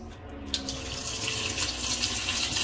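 Steady rush of water running from a Waterdrop G3P800 reverse osmosis filter faucet, constant hiss after a brief start, close by with no talking.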